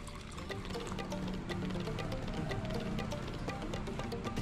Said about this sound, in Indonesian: Kemudian kita siram dengan air dingin teman-teman, supaya gabah yang tidak ada isinya ataupun tidak ada berasnya bisa ketahuan dan kita buang ya.